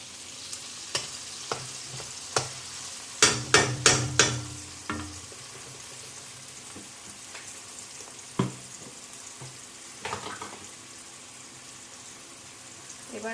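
Cinnamon sizzling in hot oil in a pan while cooking chicken rezala, with a burst of loud frying crackle in the middle, then quieter popping and occasional stirring clinks.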